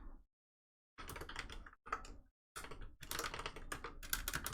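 Close computer keyboard typing in quick, dense bursts separated by brief silent gaps, growing busier toward the end, with nothing else audible.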